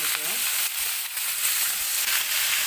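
Chopped rice is stirred into an ivy gourd curry in a hot pan, giving a steady close sizzle with soft scraping strokes throughout and no voices.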